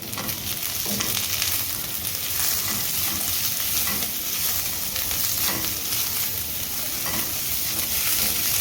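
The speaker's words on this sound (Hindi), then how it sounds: "इसको भी 1 मिनट के लिए सौते कर लेते हैं।" Spring onion bulbs sautéing in a pan over full flame for chilli mushroom: a continuous loud sizzle with frequent stirring scrapes, and no voices.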